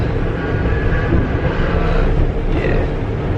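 Steady rumbling roar of the Spirit of the Outback sleeper train running across the Australian outback, heard from inside a carriage as a continuous loud drone with faint rattling and no talk.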